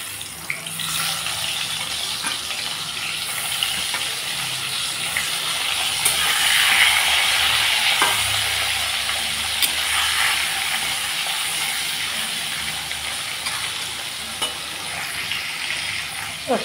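Fish fry in mustard oil in a kadai with a steady, close sizzle and crackle that swells as pieces go in, continuing for a long stretch with no talk.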